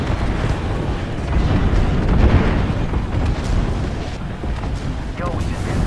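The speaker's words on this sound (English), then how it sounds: "Heads up, we got an airstrike on us." Airstrike explosions rumble through an Apex Legends match, a dense, continuous low roar of blasts with a swelling peak near the middle, loud and sustained under scattered game noise, with speech present.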